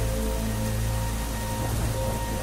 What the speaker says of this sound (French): Oh là là, zut, il pleut.